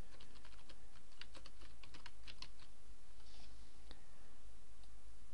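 Quick bursts of keystrokes on a computer keyboard as a file name is typed in, with irregular close clicks and a steady background hiss, no talking.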